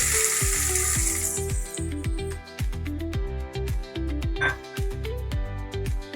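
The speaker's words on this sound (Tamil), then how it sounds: "நல்லா வதக்கிக்கணும் ஆனியனை. வெங்காயம் நல்லா வதக்கியாச்சு." Onions sizzle in hot oil with cloves, cardamom and cinnamon in a pan for a Muslim-style beef white kurma, with repeated scraping and stirring strokes of a spatula close up and no talking.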